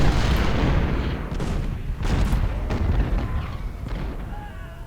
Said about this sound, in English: 12 pounders, open fire.